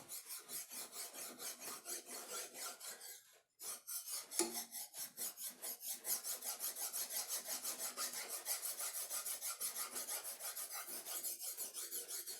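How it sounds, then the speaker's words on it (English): A hand scraper drawn lightly across a metal part from a Fairbanks Ward RF-20 to find high spots, making steady, quiet, rhythmic rasping strokes with a brief pause partway through. "I'm really not putting a whole lot of pressure on, just enough to scrape the top."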